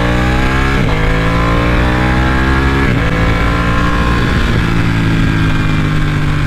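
A Ducati Panigale motorcycle engine revs loudly up close, climbing steadily in pitch through three successive pulls, running alone with no talk.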